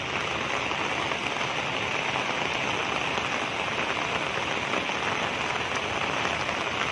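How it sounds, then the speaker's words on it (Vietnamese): Heavy rain pours down in a dense, steady hiss of drops drumming on surfaces, loud and continuous throughout with no voices. "mưa to quá các bạn ơi"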